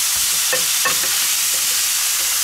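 Food for burritos is tossed and fried in a pan on a grill, a steady loud sizzle broken by a couple of quick scraping stirs and a softer toss.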